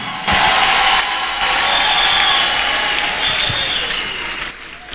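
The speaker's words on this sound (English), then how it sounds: "If you heard him well, you clap for Jesus." A crowd claps steadily for several seconds, a broad continuous wash of applause at fairly close range with no talking over it.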